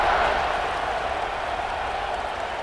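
Stadium crowd in EA Sports College Football 26 cheering after a scoring drive, a steady, dense roar of many voices that holds at an even level from start to finish without any break.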